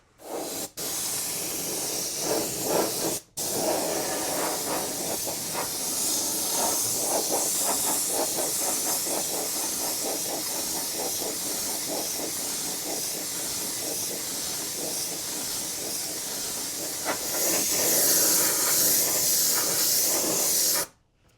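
Aerosol can spraying silver paint onto the body of a large Primal Raminator RC car: a loud, steady hiss running nearly unbroken for about twenty seconds, with one short pause early on and no talking.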